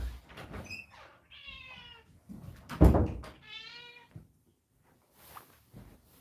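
A house cat named Chester meows indoors, several drawn-out cries separated by pauses, fairly close and clear, with a soft knock in between.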